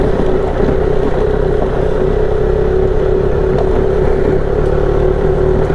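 An adventure motorcycle rides over rocks on a dirt trail along the Mid-Atlantic Backcountry Discovery Route, giving a loud, steady engine drone mixed with wind rush that stays unbroken throughout.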